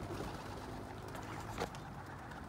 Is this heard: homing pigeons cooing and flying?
yes